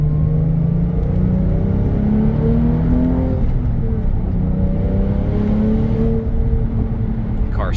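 A 2022 Porsche 911 Targa 4S drives steadily, its engine note climbing through rising pitch sweeps as it pulls through smooth gear changes, loud and close over continuous road rumble.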